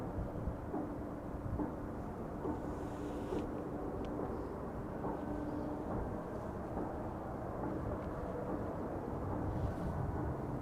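A KLM Airbus A330 airliner arriving at Amsterdam Schiphol rumbles as a low, steady roar at moderate distance, continuous throughout with no talk.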